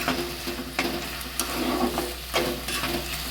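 Spices sautéing in a pan for muri ghonto, a Bengali fish-head dish, with a continuous close sizzle broken by several sharp stirring scrapes, no talking.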